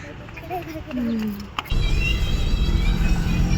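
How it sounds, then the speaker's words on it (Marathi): An Ola cab car pulls up on a city street. Its engine and road rumble swell suddenly and stay loud and close, with a brief click before it and a faint tone in the background. "चला आपली गाडी आलेली आहे"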